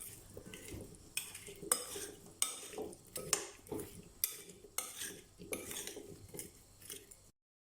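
A utensil scrapes and clinks against a bowl in a steady rhythm, about a dozen stirring strokes mixing food with mayonnaise and spices, close and moderately quiet.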